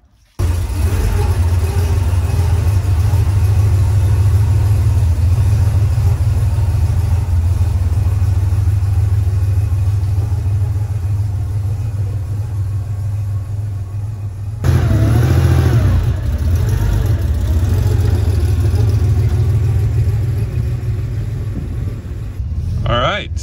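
A 1982 Porsche 911SC engine idles with a steady low rumble that runs unbroken, and a brief change in tone partway through suggests a slight rev or a shift in position.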